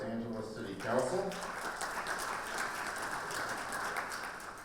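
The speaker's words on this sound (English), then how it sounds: "it is difficult to mention Joy Pikus' name without a round of applause coming up" A lecture audience gives Joy Pikus, former Los Angeles City Council member, a round of applause; steady moderate clapping swells early and continues throughout, somewhat distant.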